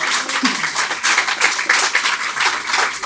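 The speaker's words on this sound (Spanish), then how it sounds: "Agradecemos con este aplauso las palabras de la profesora Claudia Zapata." An audience at a closing ceremony and tribute applauds steadily, a thick even wash of many hands clapping at moderate loudness throughout.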